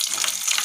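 Makrout pastry pieces going into hot oil, a steady bright sizzle of frying filling the short moment without pause.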